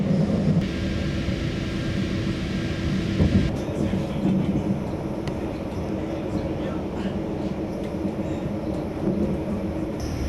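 Steady low rumble of a nearly empty passenger train rolling along rails from Slovenia toward Zagreb, continuous throughout with a faint hiss above, no distinct clacks standing out.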